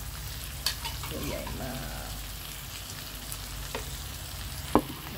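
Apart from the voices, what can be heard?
shrimp stir-frying in a pan for Thai kaprao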